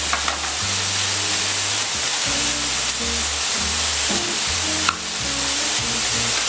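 Paprika, curry and other spices toast in a pan for a beef and onion sauté, giving a loud continuous sizzle with scraping stirs. A deep musical drone hums underneath, and a sharp clank lands partway through.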